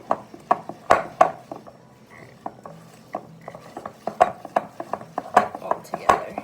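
Spoon clacking and scraping against a bowl while coconut flour is stirred into cookie dough, a steady series of sharp close knocks with brief pauses, no talking.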